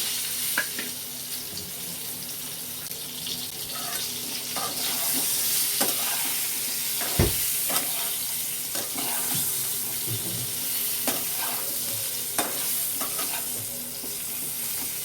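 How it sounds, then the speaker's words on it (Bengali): Pointed gourd pieces frying in oil in a pan, a continuous close sizzle with repeated clinks and scrapes of a spatula turning them over, running steadily for a long stretch without speech. "দেখো পটলগুলো একটু ভাজা হোক, আঁচটাকে আমি একটু বাড়িয়ে দিচ্ছি"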